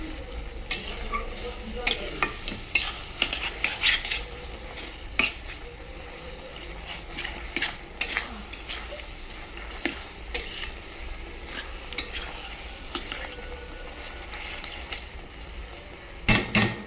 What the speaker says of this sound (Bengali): এবার নেড়ে এটাকে শুকনো শুকনো করে নিতে হবে